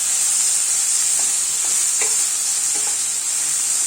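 Sliced onions with a teaspoon of salt sautéing in a pan over medium flame, giving a bright steady hiss with a few soft stirring knocks, close and uninterrupted by speech.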